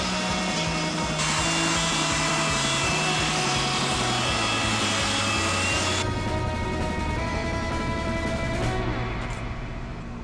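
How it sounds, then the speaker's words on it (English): A power sander works the edges of an old wooden deck, a loud, continuous electric whine with a shifting pitch and gritty abrasive noise. It eases off slightly near the end. "So now I'm going to take the sander and kind of clean up some of the edges"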